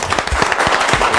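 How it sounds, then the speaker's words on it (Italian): Audience applause at an Italian music club award ceremony, dense and loud close-up clapping with distinct individual hand claps throughout the short burst. "Bel applauso."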